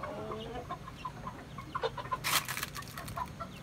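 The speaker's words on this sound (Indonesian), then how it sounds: "ini namanya jenis ayam Arab" An Arab breed chicken clucks in short, scattered bursts nearby on a chicken farm, with a louder squawk partway through over a quiet outdoor background.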